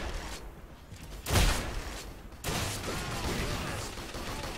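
Machine gun fire in the video game Renaissance Heroes, heard as two bursts of rapid shots, a sharp loud one followed by a longer, steadier rattling stretch against busy game noise.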